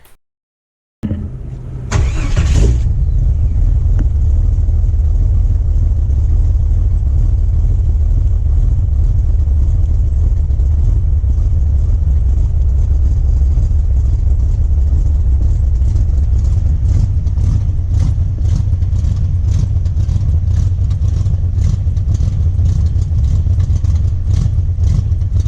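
A Jeep Wrangler with a 4.2L engine and a Motorcraft 2150 carburetor starts after a brief silence, then settles into a loud, steady close-up idle with a low rumble and an uneven cam-like lope.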